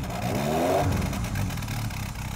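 A classic Royal Enfield motorcycle engine fires up and revs, its mid-pitched note rising briefly with some mechanical clatter, then settling into a steady, close idle.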